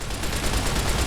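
12.7mm submachine gun firing in Fallout: New Vegas, a continuous loud stream of rapid shots with no pauses.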